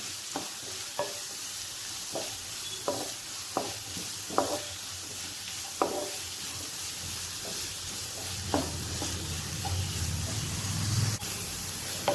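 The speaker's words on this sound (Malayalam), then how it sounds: "സവാള ഒന്ന് വാടി വരുന്നവരെ ഒന്ന് വഴറ്റുക." Sliced onions and chopped green chillies being sautéed in a pan, a continuous sizzle broken by regular spatula scrapes and taps, with the frying swelling louder near the end.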